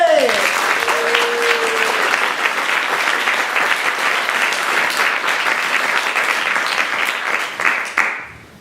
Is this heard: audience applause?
yes